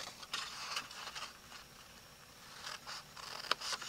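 Scissors snipping into a cardstock treat box to its score marks, a few faint quick crisp cuts spread over a few seconds, quiet and close.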